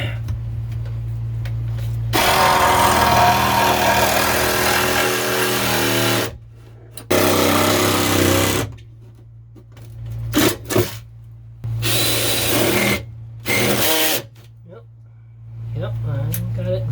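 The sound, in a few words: power drill drilling through a boat's foam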